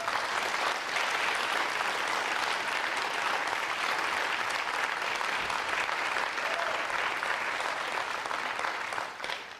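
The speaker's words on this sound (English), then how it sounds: "please a round of applause for CSA astronaut David Saint-Jacques" Audience applause at a space industry conference in Canada, a broad steady roar of many hands clapping that holds for several seconds and then begins to fade at the end.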